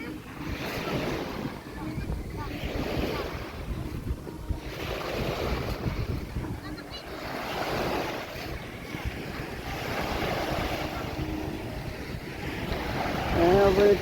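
Ocean waves wash in and recede in slow repeating surges, with steady wind rushing over the microphone and faint voices in the background.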